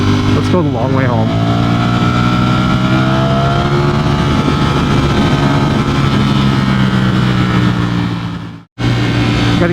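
A Ducati Streetfighter V4S motorcycle engine revs hard during a passing run on a highway cloverleaf, climbing to 10,000–12,000 RPM with a loud, sustained roar. It cuts out briefly near the end before resuming, with a rider talking over it.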